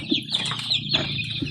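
Pet chickens cluck in a quick run of short, close calls, with a few sharper chirpy notes mixed in.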